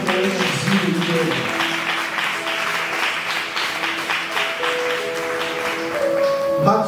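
Church congregation applauding, a sustained wash of clapping from many hands lasting several seconds, with a voice speaking over it and some musical tones beneath.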